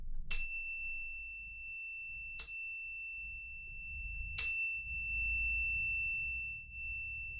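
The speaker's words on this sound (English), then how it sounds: "also have another little chime, a little bar chime" A small bar chime used for sound healing meditation is struck three times at uneven intervals, each bright ding ringing clearly and sustaining a steady tone between strikes in a quiet room.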